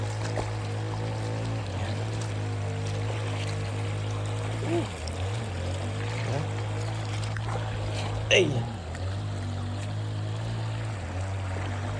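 A rocky river flows steadily in a broad, continuous rush, with a steady low hum beneath; someone speaks briefly over the water at one point.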